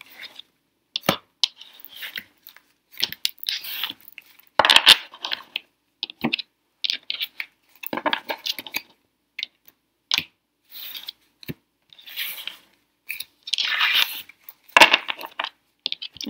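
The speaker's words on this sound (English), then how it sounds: "And those ones I'll shuffle to find." Tarot cards being shuffled and split by hand, giving repeated short papery riffles and slaps in uneven bursts, close and fairly quiet, with no talking.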